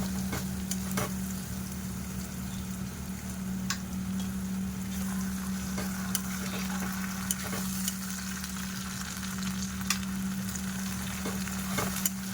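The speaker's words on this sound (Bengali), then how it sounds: "আদাটাও আমি এর সঙ্গে কিছুক্ষণ কষাবো" Garlic, onion and ginger fry in a pan for a mutton curry, the onions already browned, giving a steady, close sizzle with soft crackles throughout, no voices.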